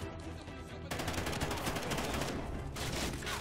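Heavy gunfire during the Federation Day mission of Call of Duty Ghosts: dense, rapid automatic bursts overlap one another, loud and sustained, with sharp cracks rising above a constant roar of shooting.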